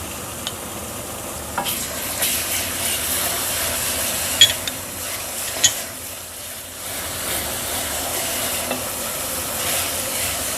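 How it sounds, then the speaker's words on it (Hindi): Garlic-ginger paste sizzles steadily in a pan with lightly fried onions while cooking palak chana dal, with a constant frying hiss, a few sharp clinks and scrapes from stirring, and no talking. "प्याज हल्का सा फ्राई करने के बाद इसमें लहसुन अदरक का पेस्ट डाल दूंगी।"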